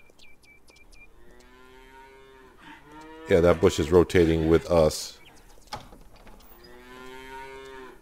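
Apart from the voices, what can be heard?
cows mooing in the video game Farmer's Dynasty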